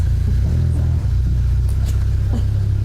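A car rumbles past close behind people standing outdoors, a loud low steady engine drone throughout with faint higher noises on top.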